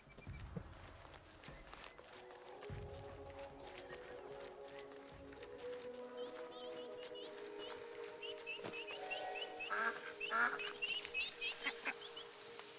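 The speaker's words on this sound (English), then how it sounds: "Unleash the ducks. Hello, ducks." Ducks quack in the video game Soulframe, their calls faint and scattered over a steady bed of game ambience and footsteps, growing busier toward the end.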